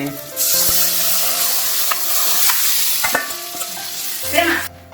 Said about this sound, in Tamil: இப்போ நாங்கள் வச்சிருக்கிற இறைச்சி நாங்கள் இதில் போடுவோம்